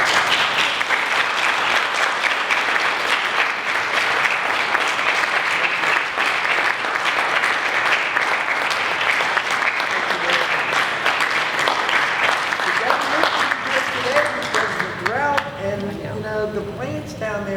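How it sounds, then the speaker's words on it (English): Audience applause, a loud, sustained round of clapping from a crowd that carries on steadily before tapering, with a voice beginning to talk underneath near the end. "So I want you to all give a round of applause."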